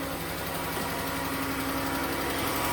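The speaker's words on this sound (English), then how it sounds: "Got a little ticky lifter there, or a rocker arm or something." A car engine with 158,000 miles idles steadily and close by, a dense even rumble with a faint ticking from a lifter or rocker arm woven through it.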